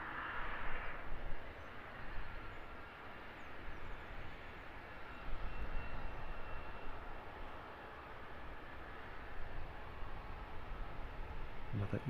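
An EasyJet airliner rolls along the far taxiway at London Luton Airport, a distant, steady low engine rumble and hiss that continues unbroken throughout with no voices over it.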